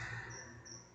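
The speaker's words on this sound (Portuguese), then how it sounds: "É um grilo aqui, um grilo feliz." A single cricket chirps faintly in a rural area, a thin steady trill recurring twice within a second against quiet background hiss.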